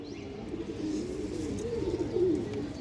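A female Bagha pigeon among other caged pigeons gives soft, low, burbling coos, fairly faint and steady, swelling slightly toward the end, with no voices present.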